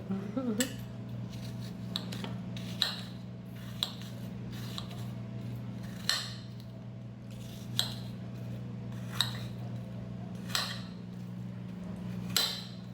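A knife chops apple pie rolls into bite-sized pieces, a dozen or so sharp, evenly spaced clicks against the board over a steady low hum.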